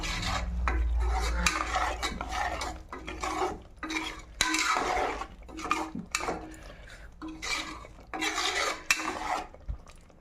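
Metal utensil clatter and scraping as tempering is stirred into cooked dal with drumstick leaves in a pot, with short pauses between bursts of stirring, close by.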